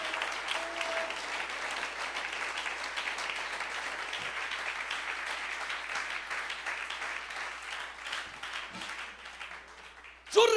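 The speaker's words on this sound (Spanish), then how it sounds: "suelta ese aplauso para él" A congregation at a church service breaks into sustained, dense applause that carries on steadily for about ten seconds and then fades near the end.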